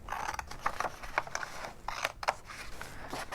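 Scissors snip through paper while cutting lines across an origami shirt, a close run of quick, irregular crisp cuts with faint rustling between them.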